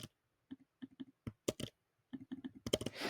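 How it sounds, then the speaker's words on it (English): Computer keyboard keys and a mouse click in quick irregular bursts at a desk, close but quiet, with short gaps between clusters of taps and no talking. "sorry if you hear my clicking"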